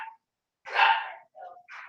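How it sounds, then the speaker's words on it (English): Dogs bark outdoors in short bursts, one longer loud bark in the middle flanked by briefer yips and barks, moderately close with no one talking. "And now the dogs are going to be barking."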